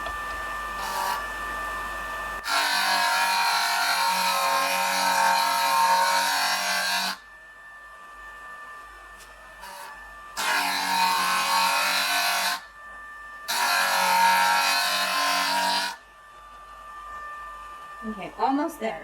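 A JoolTool rotary shaping tool grinding and polishing a glass cabochon, a loud whirring drone that runs in long stretches and then cuts off, with quieter pauses between passes.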